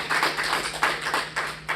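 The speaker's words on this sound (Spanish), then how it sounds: "Un aplauso para usted." A church congregation applauds in short uneven bursts of hand claps, fairly close and lively, over a low steady hum.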